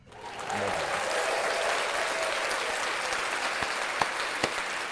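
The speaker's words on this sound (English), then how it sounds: "Let's clap that up for Malcolm." A studio audience breaks into applause during a talk show discussion, the clapping swelling quickly and holding as an even, full roar, with a few sharp individual claps standing out near the end.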